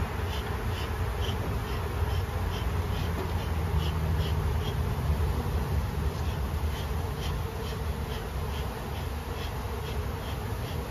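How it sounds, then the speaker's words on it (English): Many honeybees buzz continuously in a dense, droning swarm at a hive, close and steady throughout, with no talking. "There's a bee on the phone."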